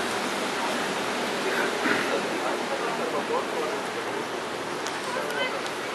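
A public fountain in the Kos town centre, near the Hippocrates tree, pours water in a dense, steady rush of splashing that fills the whole clip at an even, fairly loud level.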